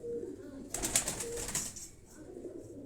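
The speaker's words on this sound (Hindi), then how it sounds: "हम कागजी, ये कबूतरों को हम कागजी कबूतर बोलते हैं।" Kagzi pigeons, pure white birds, coo softly nearby while a brief burst of wing flapping rises in the middle, with faint low background murmur.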